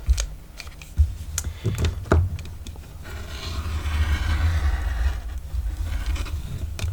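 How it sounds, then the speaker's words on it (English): A rotary cutter runs along a ruler to trim excess fabric from a junk journal cover, giving close tapping and clicking at first, then a longer steady scraping rasp, with no talk. "use my rotary tool and my ruler to cut off just the excess of this fabric over here on the sides"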